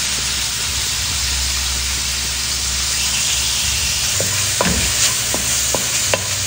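Quarter kilo of ground beef frying in oil for baked macaroni: a steady close sizzle with intermittent spatula scrapes and taps on the pan, no talking.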